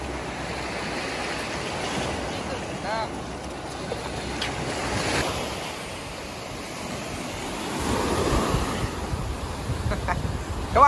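Surf washing onto a beach on a windy day, a steady, moderately loud rush of waves with gusty wind buffeting the microphone, swelling slightly near the end.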